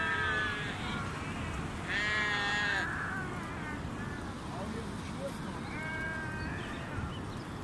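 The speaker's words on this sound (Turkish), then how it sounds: "Koyun köprüden geçiyor gördüğünüz gibi." Sheep bleat repeatedly in short, clear calls over steady outdoor noise as a flock crosses a bridge during a seasonal highland migration near Arsin, Trabzon, with people talking nearby.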